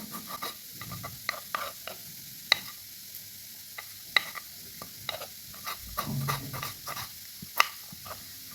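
Radish being fried in a pan, with a faint continuous sizzle and scattered soft scrapes and occasional sharper clinks of a utensil against the pan, quiet and close.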